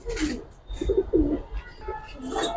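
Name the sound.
khaki pigeons cooing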